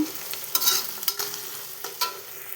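Onions frying and browning in a pan, a steady close sizzle broken by several sharp scraping stirs of a spatula, with no voices.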